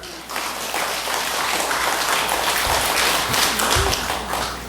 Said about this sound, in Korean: 우리 박수 한번 치자